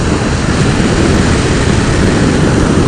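Wind roars loud and steady past a Shoei RF 1200 helmet with its visor open on a moving motorcycle, a dense unbroken rush that buries everything else.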